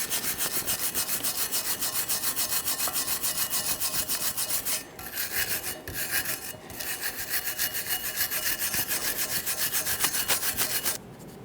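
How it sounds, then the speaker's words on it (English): A wire brush scrubs the caliper bracket areas on a 2015-2020 Ford F-150 during a front brake job, giving loud, close, rapid back-and-forth rasping strokes that run almost continuously, with a few short pauses. "I'm going to be using a wire brush"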